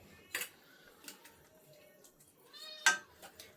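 A cat meows in a home kitchen while egg gravy simmers on the stove: a few faint, short mews, then one louder, clearer meow near the end, with light clinks nearby.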